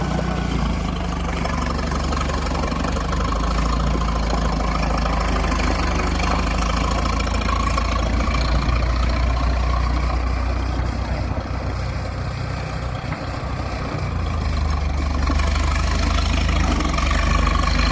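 A 1963 Case 830 farm tractor with power steering idles loudly and steadily, its engine rumbling with a constant low knocking throb for the whole stretch, with no talking.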